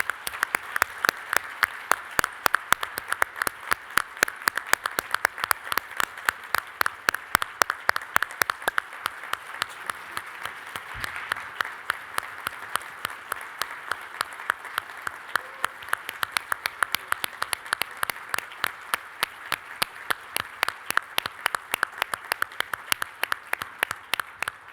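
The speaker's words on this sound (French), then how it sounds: "J'aimerais que vous m'aidiez à applaudir M. Lifson pour son œuvre." Rhythmic applause from a luncheon audience honouring Mr. Lifson, with clapping that settles into a steady, unison beat and carries on for over twenty seconds.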